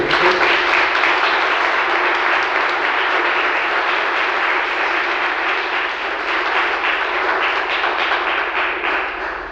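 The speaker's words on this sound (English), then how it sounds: "Round of applause." A founders forum audience breaks into a round of applause, a thick, roaring wash of clapping from many people that stays loud and even for several seconds before easing slightly at the close.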